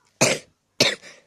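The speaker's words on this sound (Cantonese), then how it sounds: "時間可能有聽到好多咳聲啊" Two sharp, close coughs about half a second apart from a person who has been ill, the second trailing into a rougher throaty rasp, heard alone without talk.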